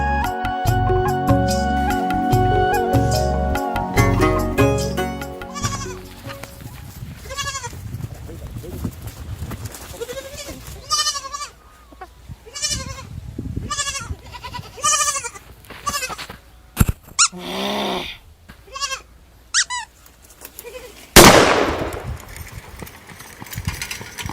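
Goats bleat repeatedly, several loud, wavering calls spread across the scene, mixed with music at the start and people talking in between.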